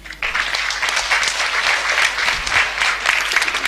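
Audience applause at a seminar starts abruptly and continues as a thick, lively patter of many hands clapping, moderately loud and steady, with no talk over it.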